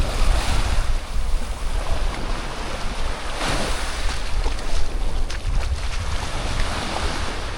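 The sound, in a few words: ocean waves washing sargassum onto the beach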